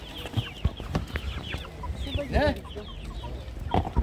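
Chickens for sale at a Thursday open-air market in Turkey cluck and squawk in quick, overlapping bursts close by, while market chatter runs in the background and a voice speaks briefly.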